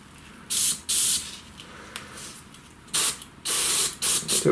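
An airbrush blows air in a few loud, close hissing bursts of uneven length, separated by short quiet gaps.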